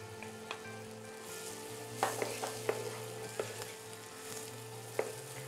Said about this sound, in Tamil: அந்த நீட்டமாக இருக்கும் அந்த பஜ்ஜி மிளகாய் வந்து நம்ம இதோட சேர்க்குறோம்